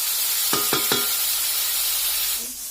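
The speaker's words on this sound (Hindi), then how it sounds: "कटहल भी फ्राई हो गया है" Boiled jackfruit, already salted and spiced with turmeric, frying in a pan, with a steady hiss of sizzling oil and three quick stirring scrapes near the start before the sizzle fades slightly at the end.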